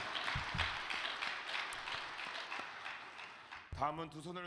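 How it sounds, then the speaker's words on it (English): Audience applause for a speaker at a Cheonshim Won gathering, steady crowd clapping filling most of the moment before a voice begins talking at the end. "Let us offer another big round of applause to President Igiza"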